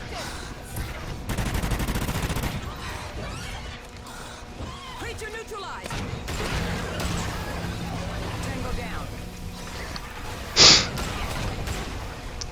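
Video game gunfire as a player shoots at an enemy rhino, a steady mid-level stream of shots running under spoken commentary and game noise, with one sharp louder burst near the end.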